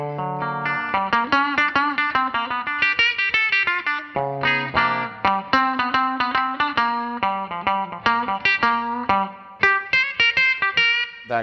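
Gibson ES-5 electric guitar with a pickup wired out of phase, played through effects: a steady run of close, loud picked notes and chords with a thin, nasal bite and light grit, no voices.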